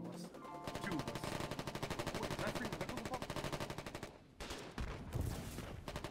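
Dense, continuous automatic gunfire from a World War tank-combat game fills the stretch, rapid repeating bursts layered with battle noise, with a brief dip near the end before the firing resumes.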